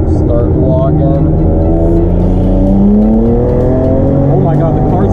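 A BMW N54-powered car running about 32 psi of boost accelerates hard in third gear, its loud engine note climbing steadily throughout with a dense, continuous roar, while a voice talks over it.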